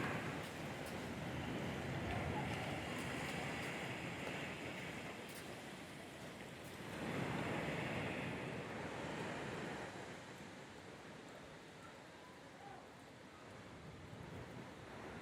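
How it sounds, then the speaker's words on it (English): Ocean waves surge and crash into a rocky cavernous punchbowl on the Oregon coast in a broad, roaring wash that swells and fades, sounding hollow and reverberant, with no talking. "hearing the crashing waves echo in the space"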